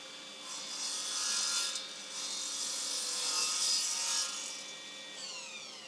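A mitre saw cuts through wood with close, steady, rasping strokes that swell and ebb in a back-and-forth rhythm. No talk is heard.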